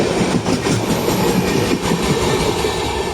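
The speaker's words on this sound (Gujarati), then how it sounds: "ઇન્ટરસિટી વલસાડ દાહોદ ફરી એકવાર LHB કોચ સાથે અમલસાડથી ડિપાર્ચિંગ થઈ ગઈ છે." Valsad–Dahod Intercity train with LHB coaches departing Amalsad, a loud continuous rumble with rhythmic clickety-clack of wheels over rail joints passing close by, no voices.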